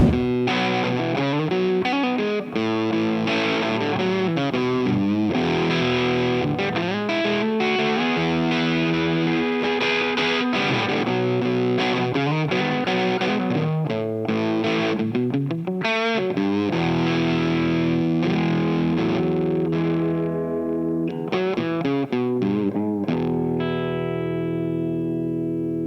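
Electric guitar on the bridge pickup played through a GE Vintage King fuzz pedal, loud and thick with distortion, chords and riffs ringing out continuously before a final sustained chord fades.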